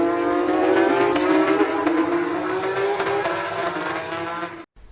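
Porsche race cars tear past at full throttle, a loud continuous engine howl with rising pitch and faint tire squeal, sustained for several seconds before cutting off abruptly near the end.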